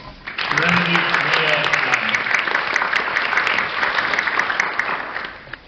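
A crowd at a school board candidate forum claps for students, dense applause swelling quickly and holding steady before tapering near the end, with a brief voice faintly audible at the start.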